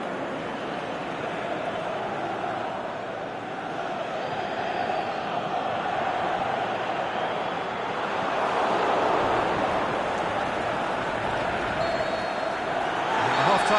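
Steady roar of a football stadium crowd in a PS4 football video game, a broad continuous wash of massed voices that swells slightly toward the end, with commentary talk underneath.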